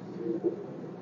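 A thin racing pigeon coos briefly on a rooftop, a soft low throaty call with a couple of pulses, close and alone.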